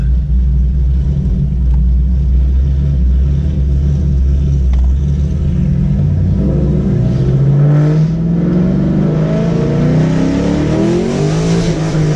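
A loud Chevrolet Camaro muscle car engine rumbles steadily, then revs up and accelerates with a rising roar, close by and with no talking.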